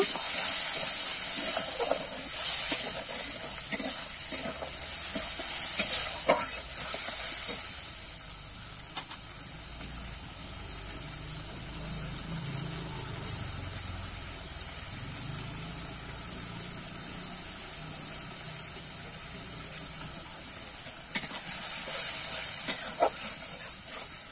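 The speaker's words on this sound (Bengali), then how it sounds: "এবার এখানে কিন্তু আমি টমেটো বাটা আছে, সেটা দিয়ে দেবো। সেটাও কিন্তু আমি নেড়ে চেড়ে একটু কষিয়ে নেব।" Tomato paste sizzles in a hot pan while it is stirred and fried down, a steady close hiss that runs throughout, with occasional sharper bursts and faint knocks from stirring.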